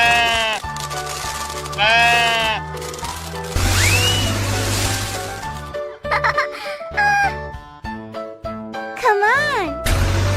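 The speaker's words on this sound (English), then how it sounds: "Sheep." A sheep bleats several times in quavering calls, close and loud, alongside other bright cartoon-like sounds, with no talk.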